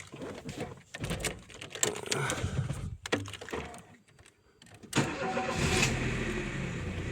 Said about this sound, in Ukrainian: Зараз покажу, як машинка заводиться.